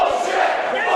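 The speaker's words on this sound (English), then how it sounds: "I think this crowd is poignantly upset about what he just did." Upset crowd at a tag team wrestling match shouting and booing in a loud, continuous roar throughout, with no clear pauses.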